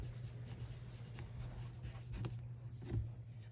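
A pen writes on paper at close range, giving soft, continuous scratching strokes with a few light taps, quiet and with no talking.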